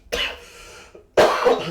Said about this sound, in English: this cough is actually quite atrocious